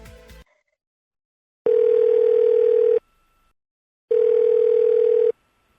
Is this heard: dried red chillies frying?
no